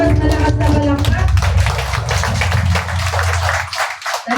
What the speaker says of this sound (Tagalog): Yung mas malakas na palakpak.